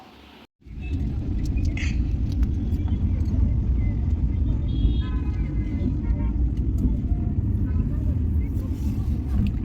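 Inside a small hired car on a trip out of Ahmedabad, a steady low engine and road rumble starts after a brief quiet moment and continues evenly, with people talking over it.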